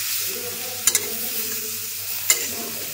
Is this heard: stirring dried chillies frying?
yes